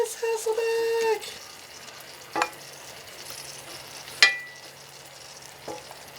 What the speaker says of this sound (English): Oh, they're sizzling.